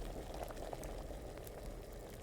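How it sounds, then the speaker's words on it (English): In the Kingdom Come: Deliverance video game, an alchemy potion brews in a cauldron over a fire, giving a faint, steady bubbling and simmering with soft pops throughout. "it's bubbling for the same amount of time anyway"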